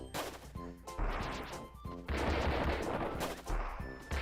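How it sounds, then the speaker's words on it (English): A candy cannon in Kirby: Triple Deluxe fires jawbreakers, loud heavy booming blasts and crashing impacts arriving in quick bursts with a musical game soundtrack underneath. "Run away from the candy cannon!"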